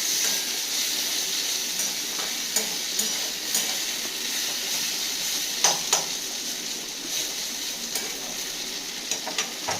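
Food sizzles and fries steadily in a pan at home for a lunchtime dish, with a continuous bright hiss and occasional soft clinks of stirring, and no talking.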